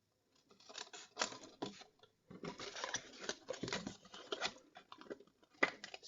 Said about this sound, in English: there's only going to be a little bit of trimming